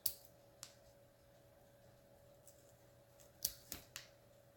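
Quiet, sparse snips of scissors cutting chenille stems: a sharp cut, a pause, then a quick cluster of three snips close by.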